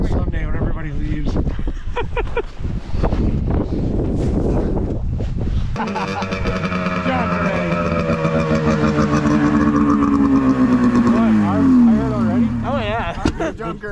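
A 2004 Ski-Doo REV MOD snowmobile engine revs loudly up close, its pitch climbing and falling through sustained high-rpm runs, with wind buffeting and people talking over it.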